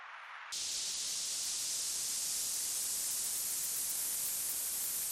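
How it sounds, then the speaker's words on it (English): A synthesized white-noise riser for an electronic track: a loud, steady hiss of bright noise bursts in after a brief quieter lead-in and holds at full level, shaped by EQ automation, with no voices. "Now this is the riser."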